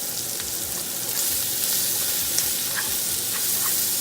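Fresh scallions sizzle in a hot pan with garlic and onion powder, a steady bright frying hiss with small pops and crackles, close and loud, with no talking.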